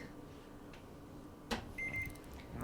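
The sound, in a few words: kitchen timer being set, beeping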